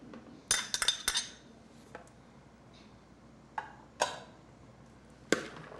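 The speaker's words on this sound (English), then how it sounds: "Chunk them in there and stir them around a little bit so it's mixed up a little." Chopped green onion being stirred into a mixture in a bowl, heard as a few sharp clinks and scrapes of a utensil against the dish, clustered at first and then spaced out with quiet gaps between.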